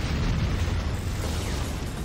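An enemy structure explodes in the video game C&C: Renegade, a sustained, rumbling blast with heavy low-end roar lasting the whole moment, loud and close.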